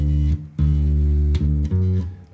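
Bass guitar playing bar five of a song, a few sustained, resonant low notes, one ringing long, with clear plucked attacks and no talk.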